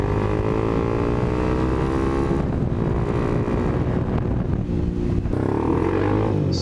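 A Honda CBR300R motorcycle rides through Bangkok traffic, its engine holding a steady buzzing note under constant wind rush, with the pitch dropping at two gear changes.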